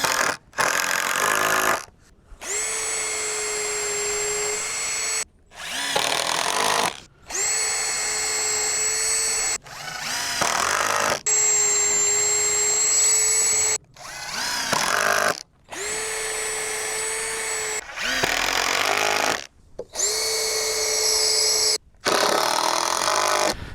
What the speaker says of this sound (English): This takes a little bit longer pre-drilling these holes